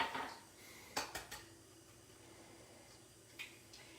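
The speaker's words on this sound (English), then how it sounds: "break the egg into something else first" An egg cracked and dropped into a bowl in a kitchen, quiet sharp clicks and taps against the bowl, a short cluster early on and one more tap near the end.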